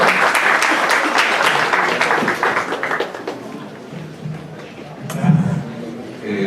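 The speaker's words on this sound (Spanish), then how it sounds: "Un aplauso, por favor." Audience at a university legal research conference applauding a speaker, a dense burst of clapping that is loud at first, then thins out and fades after about three seconds, followed by a brief bump of low noise.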